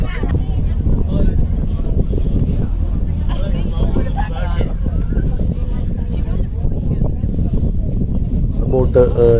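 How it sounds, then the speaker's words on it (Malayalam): A dhow tour boat off Musandam pulls away, its low engine rumble and water wash running steadily through the clip amid wind noise, with people chatting faintly in the background. "ബോട്ട് നീങ്ങി തുടങ്ങി."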